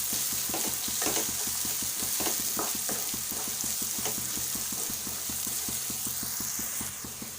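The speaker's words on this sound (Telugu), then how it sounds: "కారం వేసిన తర్వాత కలుపుకోవాలి" Chili powder is stirred into egg curry masala frying in a pan, producing a steady close sizzle with a regular scrape and clack of the spoon against the pan. No one is speaking.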